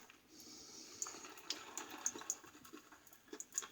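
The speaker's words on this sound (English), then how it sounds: "I'll just have to wet my face here." Water splashing and dripping at a sink as a face is wetted before a shave, a run of small close splashes and drips over a steady running-water background.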